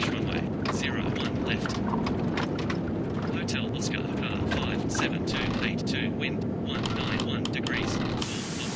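An Airbus A320neo in Real Flight Simulator accelerates for takeoff, its engines giving a steady, loud roar throughout while a voice talks over it.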